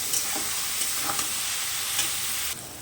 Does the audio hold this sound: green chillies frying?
yes